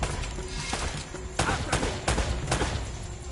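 Several sharp bursts of gunfire crack out in quick succession over a dense, loud game soundscape in Uncharted: Drake's Fortune, with a faint voice underneath.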